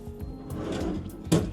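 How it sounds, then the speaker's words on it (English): A drawer in a hotel room at the Stamford Plaza Sydney Airport slides open or shut with a single sharp knock near the end, close by and alone against quiet room tone. "Drawers."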